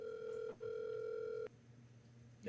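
Telephone ringback tone during an outgoing call, a steady, fairly faint electronic tone with two long pulses and a short gap, followed by quieter room noise.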